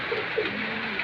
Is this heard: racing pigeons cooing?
yes